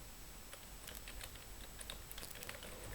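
Typing on a computer keyboard while an email preview text is entered: faint, fast clicks scattered over a steady background hiss, with no talking.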